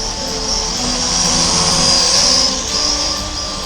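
A small D50 FPV drone flies indoors with a loud, close, steady high-pitched whine of buzzing propellers that rises and falls slightly as it maneuvers, alone without talk.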